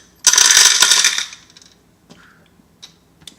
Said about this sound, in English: I'm gonna move all these screws and stuff.